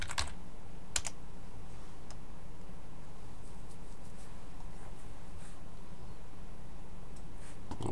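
Someone types a terminal command on a Linux Ubuntu computer keyboard: a steady, close patter of soft key clicks that runs for several seconds with a few sharper taps, and no talking.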